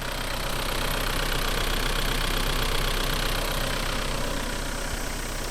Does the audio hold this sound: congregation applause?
no